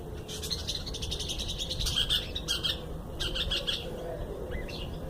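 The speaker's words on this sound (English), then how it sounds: "This yellow belly bird." A yellow-bellied bird calling outdoors on a hot, windy summer day, with repeated bright chirping phrases in short bursts over steady wind and low background rumble.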